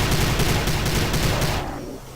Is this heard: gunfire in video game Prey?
yes